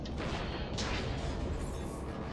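Automated turret gunfire in Mass Effect 3 rattles continuously as a dense, steady roar of shots, loud and unbroken throughout with no voices over it.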